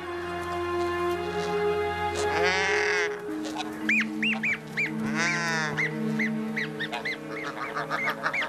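Geese honking loudly and repeatedly, harsh rising calls in bursts overlapping one another, with a sustained tonal sound underneath at the start.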